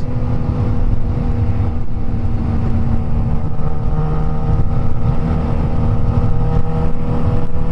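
A Suzuki GSX-S1000 sport motorcycle engine with a remapped ECU drones and revs steadily throughout, a dense mechanical roar with a constant hum and no pauses.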